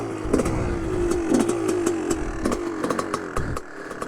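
A 2001 Gas Gas dirt bike engine runs steadily nearby, its two-stroke-style buzz with rising and falling revs and repeated blips, loud and continuous with no talk.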